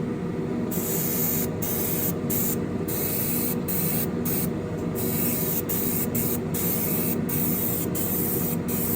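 An airbrush or spray gun lays lacquer onto a Ferrari SF90 Spider scale model car, hissing loudly and continuously at close range with brief rhythmic breaks as the trigger is pulsed, and no talking.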